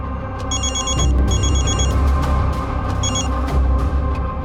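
A telephone rings in repeated electronic bursts in a tense kidnapping-case scene, its trilling tones sounding over a steady, busy background hum.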